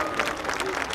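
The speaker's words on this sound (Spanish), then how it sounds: "Fuerte el aplauso para Jocelyn Méndez" A brief burst of crowd applause for escaramuza rider Jocelyn Méndez at a charro festival, with steady clapping and a voice heard over it.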